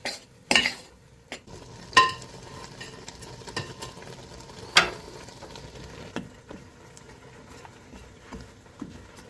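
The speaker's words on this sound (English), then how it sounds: "we just put in a couple of ounces of milk just to pull all the flour together and form the dough" Milk being stirred into flour to bring scone dough together, a soft scraping and mixing with a few sharper knocks of the spoon against the bowl, close and fairly quiet, with no talking.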